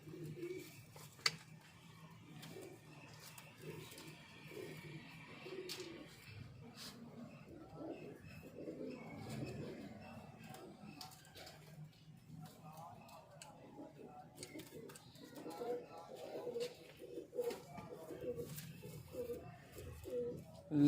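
A prize high-flying pigeon makes soft, low cooing in a loft, repeated murmurs over quiet background rustle and faint ticking sounds.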